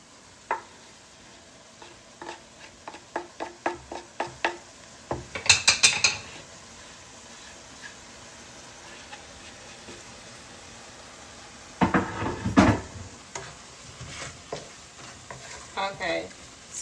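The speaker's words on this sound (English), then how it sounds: "I am in the process of sauteing the onions, the chili peppers, the serrano peppers." Onions with chili and serrano peppers sautéing as garlic goes in, with steady stirring clicks and two louder bursts of scraping and clatter against the pan, close by and with no talking.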